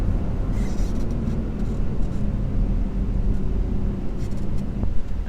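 Steady engine and road noise from a 2019 Porsche Macan S cruising in traffic, a continuous low rumble with little change in pitch and no voices.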